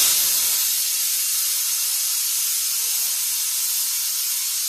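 A pressure cooker vents steam in a home kitchen after its whistles, with the gas turned off. A loud, continuous hiss runs unbroken throughout with no other sounds.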